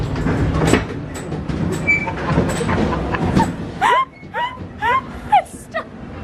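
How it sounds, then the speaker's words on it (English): A ghost train ride car rumbles and clatters along rails, then several short rising squeals or whoops ring out in quick succession near the end. "The ghost train."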